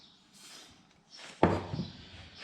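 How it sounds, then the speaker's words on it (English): WD-40 is sprayed onto a seal during a 2JZ engine to CD009 gearbox swap on a 350Z, giving short, close aerosol hisses followed by a sharp knock and light handling noise. "WD-40 in it to get it on there."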